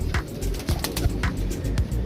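Teddy pigeons of the Chaudhry Sakhi Patti bloodline coo in a steady run of close, low throaty calls, repeating every fraction of a second with fluttery pulses.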